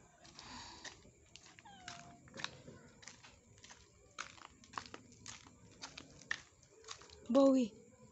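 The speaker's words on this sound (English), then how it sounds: "Oh, there's a cat there." A single short meow near the end, preceded by faint rustling and crinkling sounds with low background noise.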